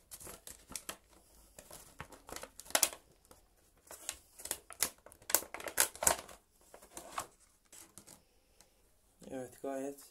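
A paper insert from a Piranha tripod selfie stick package crinkles and rustles in close, intermittent bursts of handling noise. A short voice is heard near the end.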